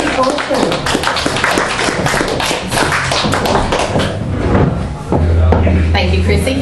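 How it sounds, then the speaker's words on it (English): A live audience at The Deli in Thebarton applauds a featured performer with dense, sustained clapping throughout, loud and close, with voices mixed in among the claps. "Please make Tracey feel very welcome and give her a big round of applause."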